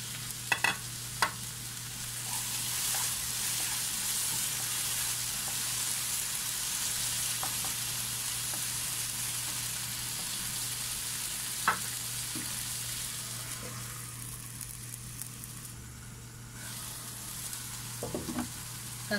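A pan of chopped tomatoes sizzles steadily for a long stretch, with a few scattered scrapes and knocks of stirring, close by and moderately loud, without voices.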